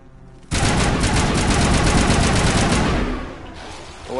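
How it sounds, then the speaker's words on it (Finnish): Loud, sustained automatic gunfire in the Mass Effect video game, a rapid continuous burst lasting a few seconds up close before easing off, with no talking over it. "Mä ammun noita olosen lonkeroita."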